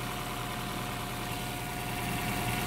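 A 2014 Honda Vezel engine idling while it warms up after service, a steady close mechanical hum with an even low throb and no variation.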